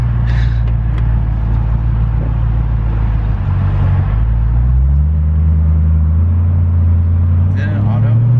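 BMW E92 M3 with a manual gearbox driving, a loud close engine drone that drops and rises across a gearshift, heard from inside the cabin while people talk.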